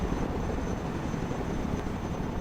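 Chinook helicopter landing in the video game Broken Arrow, a steady, dense rotor and engine roar that holds at an even level throughout, with no talking.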